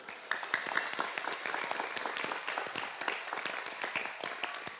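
A crowd at a pesantren gathering applauds, the clapping dense and lively but heard from a distance. It runs steadily for about five seconds without a voice over it.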